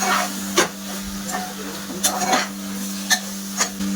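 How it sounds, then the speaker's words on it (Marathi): Soft scraping and clinking of a spoon stirring a yogurt masala mixture in a pot for soybean pulao, a few louder knocks against the rim, over a steady background hum. "दही घालून आपल्याला हे सगळं मिश्रण एकत्र करून घ्यायचं आहे."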